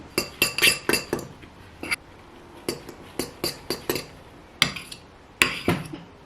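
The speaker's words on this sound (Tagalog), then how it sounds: "mix it well" A utensil mixes custard cake batter in a bowl, making sharp clinking taps against the bowl in quick bursts with short pauses, close and clear, with no talking.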